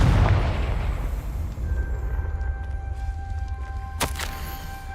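A Confringo spell explosion in the video game Hogwarts Legacy opens with a deep, booming blast that rumbles and fades, followed by a sharp crack a few seconds later.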